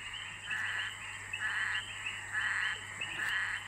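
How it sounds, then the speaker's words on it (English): A dense chorus of frogs croaking in repeated pulsing bursts in Mozambique, steady and fairly loud, with a constant insect-like drone underneath and no talking. "you can't hear them for the bloody frogs"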